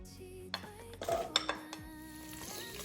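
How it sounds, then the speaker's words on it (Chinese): Garlic cloves, shallots, ginger slices and dried chili pieces stir-fried over low heat in oil in a pan, with a few sharp spatula knocks and clinks against the pan over a steady low frying hiss. "小火翻炒約5分鐘"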